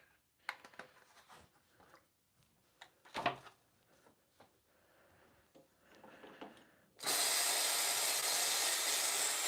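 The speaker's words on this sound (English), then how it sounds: "You just want to make sure the steam is as dry as possible." An espresso machine steam wand at a cafe gives off a loud, steady, close hiss that starts suddenly near the end, after a stretch of quieter knocks and clatter.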